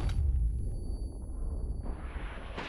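An artillery shell fired in a tank video game lands with a heavy, booming explosion up close, and its low rumble trails off for about two seconds before a second, sharper burst hits near the end.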